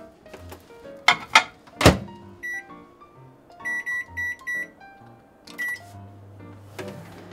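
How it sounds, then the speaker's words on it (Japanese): A microwave oven heating frozen Nichirei ripe-tomato chicken rice for four minutes: door thunks shut, a series of keypad beeps sets the time, then the oven starts with a low steady hum, all close and clear. "レンジでチンしてる間に"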